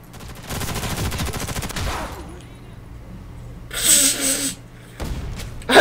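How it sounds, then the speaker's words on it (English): Rapid gunfire in the A.I. Space Corps video game, a dense burst of shots at the start followed by quieter game effects and a few later sharp hits. "I just shot like a maniac because there was nothing else I could do"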